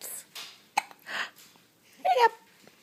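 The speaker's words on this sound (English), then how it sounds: "you still get those hiccups every day" A baby hiccups a few times across a short stretch, small sharp catches with soft breathy sounds between them, close and fairly quiet, while an adult speaks gently nearby.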